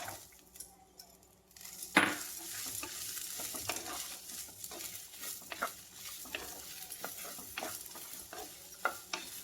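Garlic, ginger and small shallots sizzling and frying in a pan for a South Indian pepper chicken curry, with a spoon scraping and stirring in steady irregular strokes and occasional sharper clinks against the pan, close and moderately loud.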